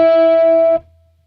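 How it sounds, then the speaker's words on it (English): A single sustained electric guitar note, bent on the third string, rings loud and clear with a distorted tone, then cuts off sharply after under a second. "It starts off with this bent note on the third string"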